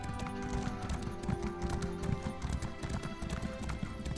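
Horse hooves clip-clop in a rapid galloping rhythm in the video game Elder Scrolls Online: Elsweyr, loud and close over game music and ambience, without speech.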